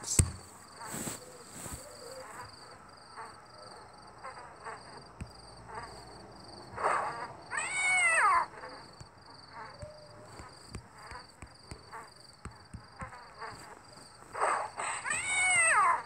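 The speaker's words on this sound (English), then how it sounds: "Interesting little kitty." A cat meows a few times in a game, the bright wavering cries standing out at two separate moments over a steady electronic hum and soft clicks.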